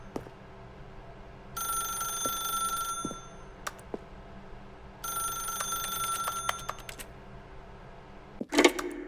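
A telephone ringing in the video game The Stanley Parable, two long bright rings separated by a pause, with clicks and a sharp knock near the end and no voices.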